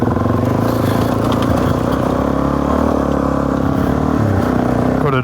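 A Suzuki DRZ400 dual-sport motorcycle rides a rocky forest trail near a creek. The engine runs close and loud with a continuous throaty drone, shifting pitch slightly and then dropping off sharply at the end.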